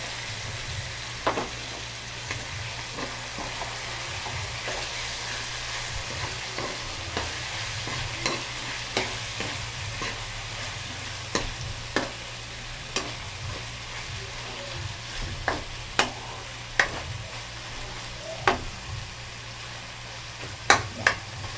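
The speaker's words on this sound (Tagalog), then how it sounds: "So, gigisa-gisa muna natin tong pork." Boiled pork sautés in a pan for menudo with tomato, giving a steady sizzle throughout. A spatula stirs it with repeated light scrapes and taps at an uneven rhythm.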